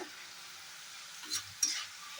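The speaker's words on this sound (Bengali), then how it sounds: "যাই হোক এই ভাজাটা করি" Potatoes frying in a pan at home give a low, steady sizzle, with two short bursts of stirring or scraping near the end.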